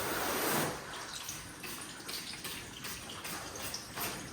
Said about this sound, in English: watch how there's really no beading on the windshield as I flush the rinseless wash off the hood